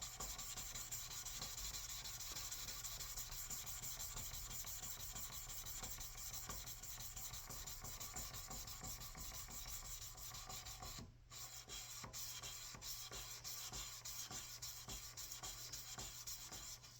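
Fine hand sanding with 1000 grit sandpaper during finish work, a steady close rasping rub with rapid back-and-forth strokes and one brief pause, continuous and without voices.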